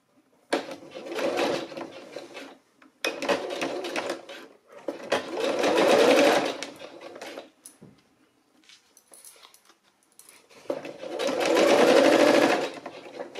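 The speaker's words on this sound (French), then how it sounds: "Je vais déjà coudre tout ça." Sewing machine stitching denim for high-waisted jeans, running in four long bursts of steady mechanical whirring with short quiet pauses between them, close and fairly loud.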